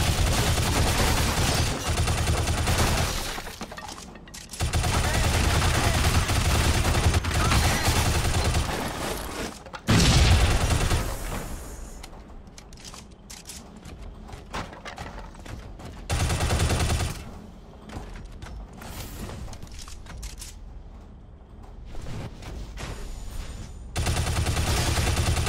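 Heavy gunfire from a coil rifle and missile blasts in a combat encounter in the Shadow Complex video game, with loud bursts of rapid shots and booms in waves, broken by brief quieter gaps.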